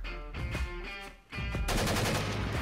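Rapid bursts of gunfire crack loudly, first in short volleys, then a sustained, dense barrage over the second half.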